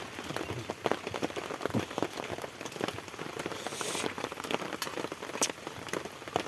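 Steady rain falls throughout, a dense, close patter of drops with occasional sharper splashes on a hard surface.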